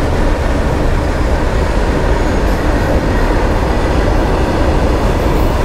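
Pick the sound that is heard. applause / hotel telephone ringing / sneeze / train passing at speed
train passing at speed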